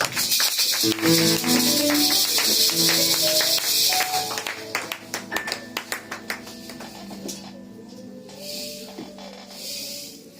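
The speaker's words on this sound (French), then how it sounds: "Acclamez pour Jésus." A church congregation claps for Jesus, the applause building over sustained music and singing, then turning into a short run of sharp rhythmic claps before fading into quieter ambience.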